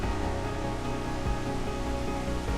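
Iguazu Falls in Argentina thunders at the Devil's Throat, a dense, unbroken roar of falling water that fills the air evenly and steadily, with no voices over it.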